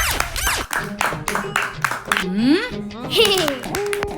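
Children clap in quick bursts of hand claps, mixed with lively young voices and chatter around them.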